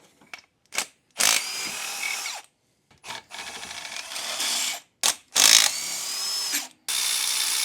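A power tool whirs in about six short and longer bursts with brief silences between, loosening 8mm bolts on a Polaris Sportsman 570 engine; loud and close, with no talking.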